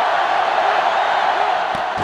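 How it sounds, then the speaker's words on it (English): A stadium crowd roars without a break during a Texas A&M versus Texas rivalry game in NCAA Football 2005, loud and dense throughout, with no other sound standing out. "this crowd is going absolutely insane"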